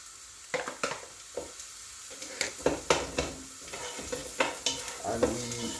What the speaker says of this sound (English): So we put the onions and ginger in.